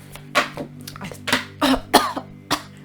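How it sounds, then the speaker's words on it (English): A person coughs several times in close, harsh bursts spaced through a few seconds, with throat clearing between them over a low steady hum. "I coughed something up."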